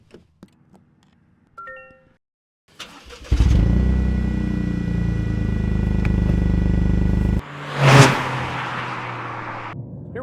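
A 2024 Toyota GR Corolla starts with a few clicks, then its engine catches and holds a loud, steady rumbling idle before a sharp rev swells and fades.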